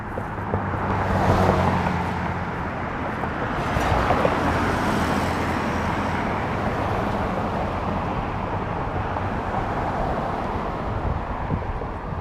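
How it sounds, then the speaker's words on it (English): Continuous road traffic noise while walking in Dallas, a dense steady wash of passing cars and engine hum with light wind buffeting, no talking. "I guess traffic's going to be like this for the next month"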